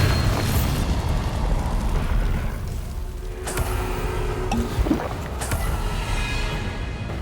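Bombarda spell explosions in Hogwarts Legacy: a low rumbling blast and sustained boom, with a couple of sharper cracks and crackling debris later, loud and near with no talk.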